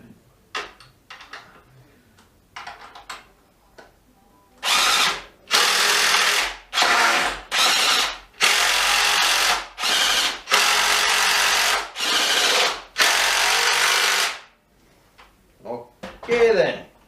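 A RIDGID AEG BSS180P brushless hydraulic impact driver runs in about eight loud, rapid bursts of whirring and hammering, heard from roughly 12 feet away, with a few quieter clicks and handling sounds before and after.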